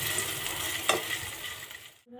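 Chicken meat sizzles in a frying pan, a steady close crackle with a brief stirring clatter partway, before it cuts off near the end.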